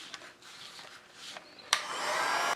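A hair dryer drying a handmade paper envelope, its airy whoosh rising and dipping as it moves, then a click and a louder steady blast near the end before it cuts off.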